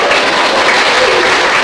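Audience applause in a church during a sermon, a steady wash of clapping from a gathered congregation filling the whole moment without any voice over it.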